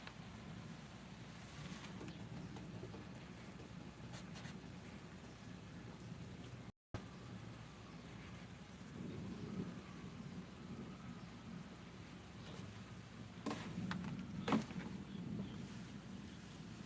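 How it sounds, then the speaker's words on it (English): Steady rain falls outside while low thunder rolls faintly in the background, a continuous wash of rainfall with occasional soft louder bursts. "That's thundering."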